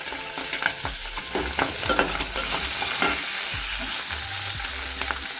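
Green chillies sizzle and crackle in hot oil in a kadai, a loud, steady frying hiss with scattered pops and the scrape of stirring, no voices.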